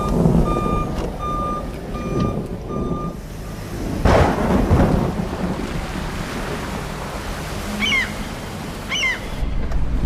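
A van turning around in rain, with a steady repeating reversing beep over heavy wind, rain and engine rumble during the first few seconds, followed by a loud whoosh and scattered chirping sounds.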